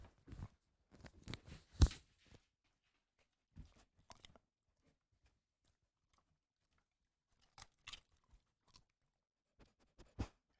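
A donkey named Maverick crunches a treat in short, close bursts of chewing separated by quiet pauses, with sharp crunching bites at the start and again near the end.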